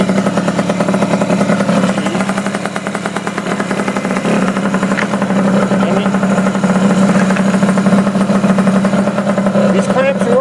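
Honda Elite 50 scooter with a newly fitted radiator idling steadily, a continuous close low hum and rattle running through the whole stretch with no breaks.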